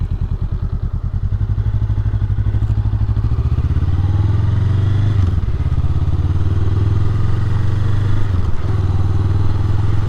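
A motorcycle rides along with a loud, close engine thrum, a steady low throb with a couple of brief shifts in pitch, and no talking over it.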